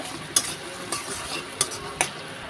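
Onions frying toward light brown in hot oil under a soft steady sizzle, with four distinct clinks and scrapes of a spoon against the pan spaced across the moment, nearby and without speech.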